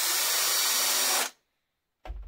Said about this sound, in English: This is the hole that guides the screw, but the hole is not enough. You need to countersink it.